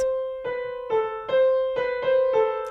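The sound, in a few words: piano notes with finger held on key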